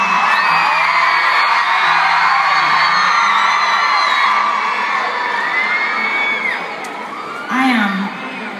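A big stadium concert crowd at a tour show in Sydney, Australia screams and cheers in a loud, sustained roar full of high-pitched shrieks and whoops, easing slightly near the end.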